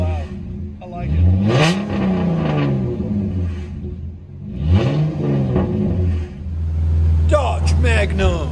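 A 2005 Dodge Magnum with a 3.5-liter V6 and straight-pipe exhaust revs hard, rising and falling through repeated loud, raspy throttle blips close to the microphone, with a voice heard briefly near the end.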